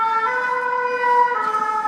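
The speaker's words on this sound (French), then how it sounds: "Magnifique sonnette de pompiers." A fire engine siren holds a steady, bright, tonal wail, loud and close, with no voices over it.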